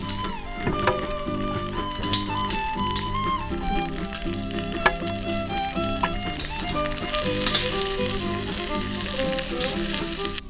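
Tomatoes sear in a hot pan, roasted alongside onions and peppers, giving a steady, close sizzle that runs throughout beneath background music.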